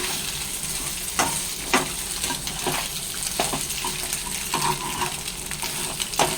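A noodle dish stirred and mixed in a hot pan: continuous close sizzling and bubbling with occasional scraping clicks of a utensil against the pan, steady and moderately loud, with no speech.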